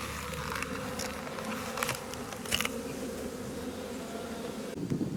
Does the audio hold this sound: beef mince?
no